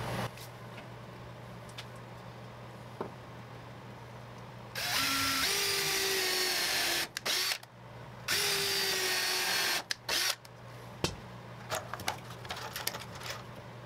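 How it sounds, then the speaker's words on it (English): A power drill bores holes into wooden blocks for a resin casting pressure pot holder, two loud sustained whirring bursts of a few seconds each with short pauses, surrounded by quieter workshop handling clicks and a steady low hum. "So we're going to drill some holes and we're going to get to that right now."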